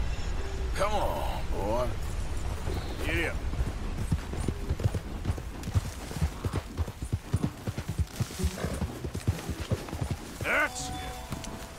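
Horse hooves clip-clopping steadily in Red Dead Redemption 2, a rhythmic run of close hoof strikes with an occasional whinny, while someone speaks over it.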